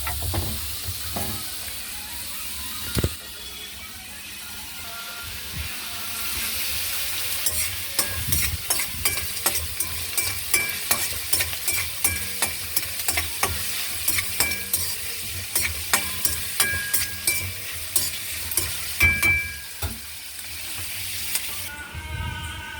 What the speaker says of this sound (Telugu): బ్రౌన్ కలర్ వచ్చిన వరకు వేపాలి